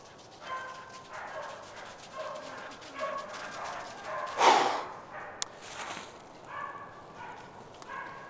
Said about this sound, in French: Ils sont pas loin les chiens.